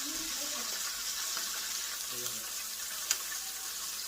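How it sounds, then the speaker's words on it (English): Chicken thighs frying in hot grease in a pan, a steady close sizzle and crackle running throughout with a brief sharper pop near the end. "So we're going to let it fry for another 2 minutes on this side"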